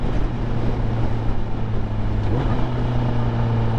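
A 2023 Honda CBR 1000RR motorcycle engine runs steadily while riding, a low droning hum with a brief throttle blip for a rev-matched shift, mixed with constant wind rush over the microphone.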